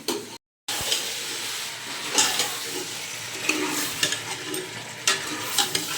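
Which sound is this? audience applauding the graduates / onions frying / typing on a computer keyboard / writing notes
onions frying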